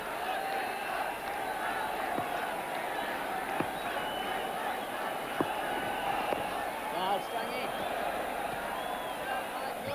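A cricket crowd at a 1996 World Cup match in Kanpur, India versus Zimbabwe, cheers a boundary as a faint, continuous distant roar with scattered claps, under a commentator's talk.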